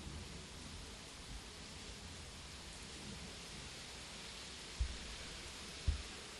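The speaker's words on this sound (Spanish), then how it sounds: "Quizá estés escuchando el murmurio de la lluvia" Steady autumn storm rain falls outside in Buenos Aires, a soft even hiss heard from indoors with two faint low thumps near the end.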